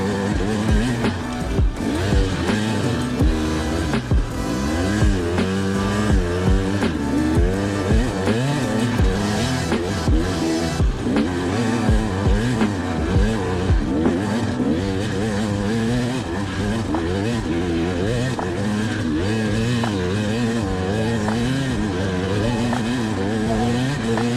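Enduro motorcycle at an enduro event at Sancey-le-Grand, climbing a loose, rocky hill, its engine loud and close, revving up and down continuously as it fights for grip.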